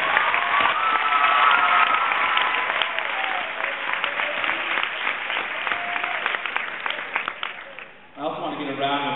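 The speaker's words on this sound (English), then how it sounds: "I want to give a round of applause for all the parents, grandparents, aunts, uncles, sisters, brothers, and guardians" Applause from a school promotion ceremony audience of families fills the room, a dense steady patter with some voices mixed in, easing slightly before a brief dip and a short burst of different sound at the end.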